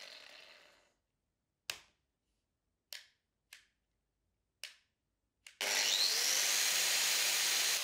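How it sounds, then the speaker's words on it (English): A Würth angle sander sits quiet through a few sharp knocks and clicks, then spins up into a loud, steady, close whirring with a rising whine that runs to the end. "Würth's new angle sanders are your strong partners for sanding, grinding, and cutting."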